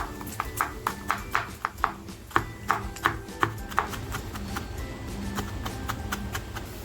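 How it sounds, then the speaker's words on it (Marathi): A knife finely chops tomato rapidly on a cutting board, a steady run of sharp taps, close up, slowing toward the end. "टॅमॅटोसुद्धा आपल्याला अगदी बारीक कापून घ्यायचे"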